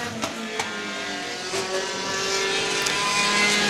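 Four-cylinder enduro race cars circling Star Speedway at night, engines droning steadily from mid-distance with a whine that builds slightly as cars pass, plus occasional sharp clicks and knocks.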